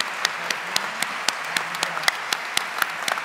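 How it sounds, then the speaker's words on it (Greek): Audience applause fills an awards ceremony for sustainable, innovative and responsible entrepreneurship: a dense, steady patter of many hands clapping at once, with sharper individual claps popping out of the wash throughout. "Άλλο ένα χειροκρότημα για τον Δημήτρη στη φωτογραφία την οποία βγαίνει."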